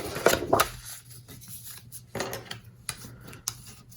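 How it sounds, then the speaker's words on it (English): Folded sides of a handmade paper box card being burnished, giving a few short dry rubbing and scraping strokes close by, strongest near the start, then quieter scattered rubs with no talking. "So now let's go ahead and do some burnishing."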